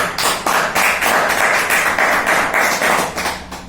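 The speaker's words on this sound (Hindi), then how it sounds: "इन सब की जोरदार तालियां।" An audience at a company presentation claps loudly and continuously. Strong rhythmic pulses run through the sound, as if many hands are beating in time.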